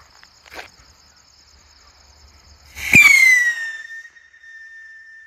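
A sharp crack of a large Cock brand whistling sky rocket launch during Diwali is followed by a loud descending whistle that fades as it climbs away, with faint insect chirps in the background.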